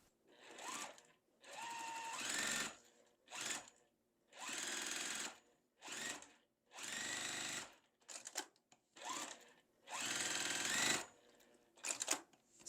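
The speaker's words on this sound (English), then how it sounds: "Okay, so let's sew." A domestic sewing machine stitches quilt block pieces in several short bursts, each run a few seconds long with brief pauses between, close and clear with no talking.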